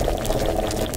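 Liquid boiling in an alchemy dish heated with bellows in Kingdom Come: Deliverance: a continuous, bubbling, steady simmer with soft popping, close and constant for the whole second.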